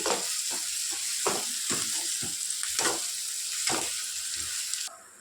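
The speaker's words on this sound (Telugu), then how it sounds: "సో ఆనియన్స్ కొంచెం ట్రాన్స్పరెంట్గా అయ్యేంత వరకు ఫ్రై చేసుకోవాలి" Onions fry in a pan for a mutton dish, sizzling steadily with repeated stirring scrapes, close and clear, before the sound drops off abruptly near the end; no one speaks.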